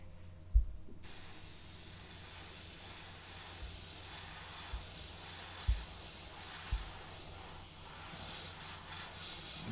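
Quiet, steady hiss of a spray can or airbrush coating a Robbie the Robot model in two colours, running continuously throughout with a few soft knocks and taps and no talking.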